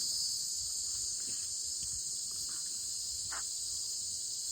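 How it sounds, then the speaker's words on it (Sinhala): Crickets chirp in a steady, unbroken high trill that holds at an even level throughout, with a few faint scattered noises beneath it and no voices. "මොනවත් නැති රැහැයිය කෑ ගන්න සද්ද විතරයි ඇහෙන්නේ"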